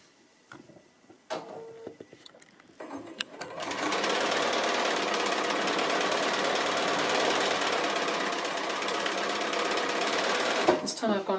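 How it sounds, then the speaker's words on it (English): A sewing machine stitches a foundation pieced quilt block in a fast, steady mechanical whirr that runs continuously for several seconds after a few handling clicks, close and loud. "I'm going to go ahead and stitch that in place."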